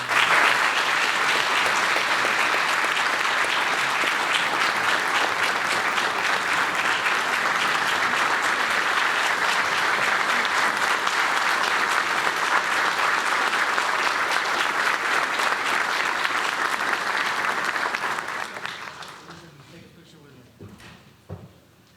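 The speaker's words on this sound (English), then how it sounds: "Another round of applause for this team that is making change happen here in Weslaco" Sustained applause from a large audience at the Weslaco State of the City event, loud and steady for about eighteen seconds before tapering off quickly into quieter room noise.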